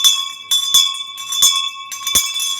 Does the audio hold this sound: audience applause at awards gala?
no